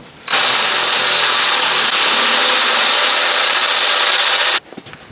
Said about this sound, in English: The next drill bit we use is going to be a 1/2" bit